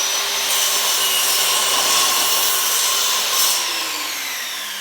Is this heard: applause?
no